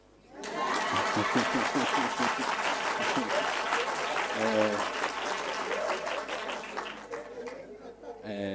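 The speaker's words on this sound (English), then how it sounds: "you can clap" A book launch audience breaks into sustained applause for Dr. Papu-Zamxaka, a dense wash of clapping that swells in after a brief quiet start and holds steady, with a low hum underneath and faint voices mixed in.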